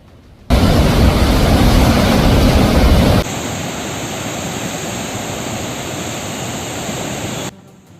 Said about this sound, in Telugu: వరద ప్రవాహం పెరుగుతుండటంతో 10 గేట్లు ఎత్తి దిగువకు నీటిని విడుదల